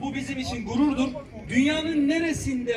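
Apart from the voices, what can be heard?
No everyday noise stands out behind the speech.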